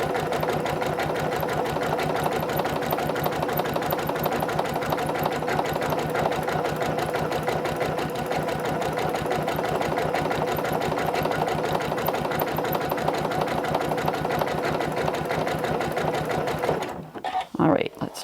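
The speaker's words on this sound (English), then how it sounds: "you do not want to sit here and watch me stitch all the way around, do you?" A sewing machine runs continuously, stitching a decorative edge around a cloth napkin. The steady rapid mechanical chatter stays close and even, then stops abruptly near the end as someone starts to speak.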